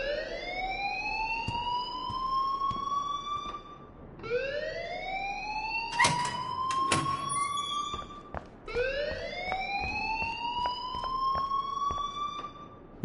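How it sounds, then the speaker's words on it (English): A wailing alarm in the Life Is Strange video game rises in repeated upward sweeps, three long cycles with harmonics, loud and steady, with sharp clanks and knocks cutting in between. "please turn off that alarm since that's your job"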